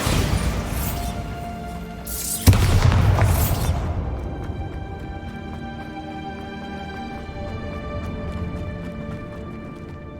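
A Bombarda blasting spell in the Hogwarts Legacy video game lands as a single sharp, heavy boom, followed by a rumbling crash and a slowly fading ring of debris and magical resonance.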